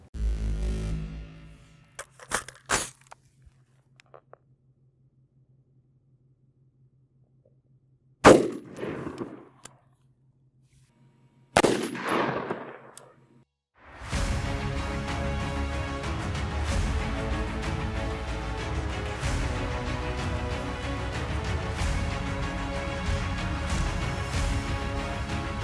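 A 5.56mm rifle with a 10.5-inch barrel fires IMI 77gr OTM rounds into ballistic gelatin at a range, giving a few loud sharp cracks separated by quiet gaps, followed by steady background music.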